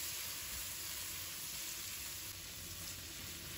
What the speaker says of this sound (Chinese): 把牛腩炒上色。 然后再加入半勺的料酒，从锅边淋入，翻炒均匀。